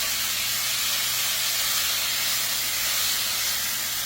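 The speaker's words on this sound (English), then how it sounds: "I'm just going to sear this up some" Beef tips seasoned with Worcestershire sauce sear in a pan over medium heat, giving a steady, loud broadband hiss and sizzle that holds evenly throughout with no talking.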